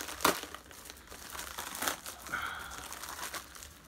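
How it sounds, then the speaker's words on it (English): Plastic packaging around a custom Jason mask gets cut and pulled open, quiet close crinkles and a few sharper snips and tears spread across a few seconds. "I don't know if I should try to cut it."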